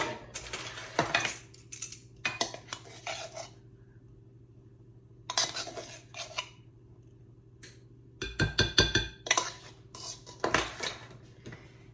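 Baking powder stirred into a biscotti mixture in a bowl: a utensil scrapes and clinks against the bowl in several short bursts separated by quiet pauses, close and fairly loud, with no talking.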